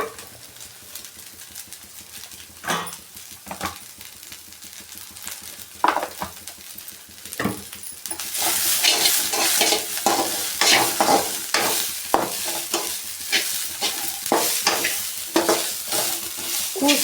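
Moringa leaf stir-fry sizzling in a pan beside a hot dosa griddle, with faint frying broken by a few spoon scrapes, then a louder, denser crackle for the second half as stirring continues in quick repeated strokes, no talking.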